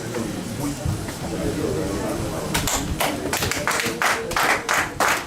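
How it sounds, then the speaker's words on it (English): An audience at a school anniversary celebration in Ilorin claps for an award presentation in scattered, sharp bursts that build in the second half, with voices talking underneath. "A round of applause, please."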